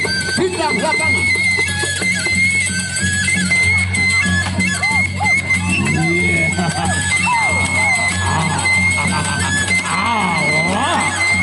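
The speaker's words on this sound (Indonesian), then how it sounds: "Tepuk tangan yang meriah." Crowd applauding and cheering at a Peresean stick-fighting match in Mayura, a steady loud roar that fills the whole stretch while an announcer's amplified voice talks over it.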